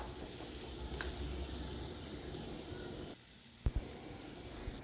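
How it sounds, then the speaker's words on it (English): Ivy gourd fries in oil with sambar powder as it is stirred, giving a faint, steady sizzle broken by a few brief utensil knocks near the end. "And stir it very well."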